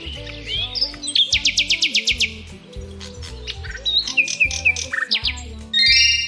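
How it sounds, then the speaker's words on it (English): A nightingale sings alone and close by, its song a series of varied, musical phrases: rapid repeated chirps and trills, some rising and falling whistles, and a loud final burst. "This is a nightingale. This little bird sings sweet musical songs,"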